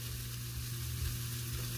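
Quinoa sizzles in a hot pan as it is stirred, a steady close frying hiss with faint scraping and no talk over it.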